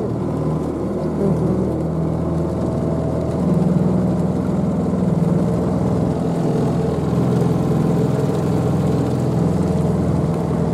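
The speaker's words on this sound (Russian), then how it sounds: "Переплываем речку на лодке." Steady, loud drone of a motorboat engine running continuously while crossing a river, with low rumbling and water-like noise throughout and no pauses.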